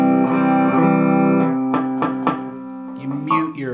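Distorted electric guitar power chords played as a rock lesson demonstration, several strummed hits ringing with sustained harmonic drive, followed by a brief talking voice.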